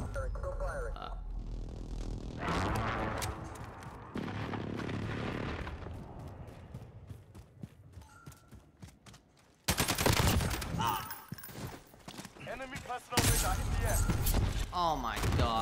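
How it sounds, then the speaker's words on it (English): Call of Duty Modern Warfare match in a cave with a precision airstrike: repeated gunfire and heavy explosive blasts, loud and chaotic, including sudden booming impacts toward the end, with voices talking throughout. "Enemy precision airstrike inbound."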